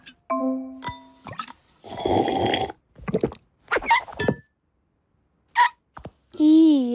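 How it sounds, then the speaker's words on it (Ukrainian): Several short, sharp cartoon hiccup sounds pop up one by one between brief bits of speech and a bright chime, clear and close. "у тебе гикавка"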